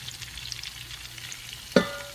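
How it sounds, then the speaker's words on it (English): Rice ingredients for Nigerian fried rice fry in a pan toward caramelizing, giving a steady low sizzling hiss that ends in a single sharp clang of a utensil against the pan. "We're just going to fry until everything is caramelized."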